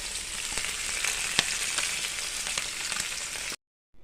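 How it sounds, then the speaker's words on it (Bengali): Fish sizzles and spits steadily in a hot pan during home cooking, with small crackles and a few sharper pops, close and even, before the sound cuts to silence near the end. "এখানে মাছটা ভাজা বসিয়েছি"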